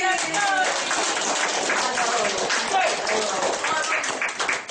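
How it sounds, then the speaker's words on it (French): Dense, sustained applause from a theatre festival audience at an improv show, steady and loud throughout with no pauses, scattered cheers faintly mixed in. "On applaudit!"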